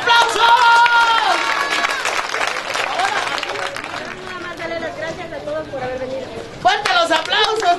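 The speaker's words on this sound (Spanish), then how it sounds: "¡Fuerte los aplausos!" Audience applause and cheering at a 15th anniversary party, a steady wash of clapping with crowd chatter and voices mixed in, loud and sustained throughout.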